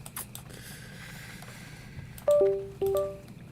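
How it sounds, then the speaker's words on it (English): A computer USB connect notification: two short, clear electronic tones a fraction of a second apart, faint room hum beneath, no talking. "USB sounds again"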